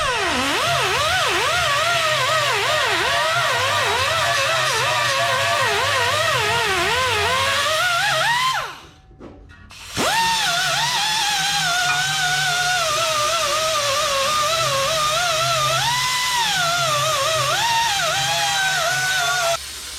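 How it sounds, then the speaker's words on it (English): A wire wheel scours grease off a 1958 Chevrolet Apache shop truck ahead of welding, giving a loud, steady abrasive whine that wavers in pitch and breaks off briefly near the middle before resuming. "Now I'll try to get in there with the wire wheel and clean it all up so I can weld it."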